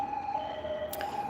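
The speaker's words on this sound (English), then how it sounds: "Ambulance." An ambulance siren holds a steady, piercing tone at a moderate distance, continuous for the whole moment with faint background hum and no talking.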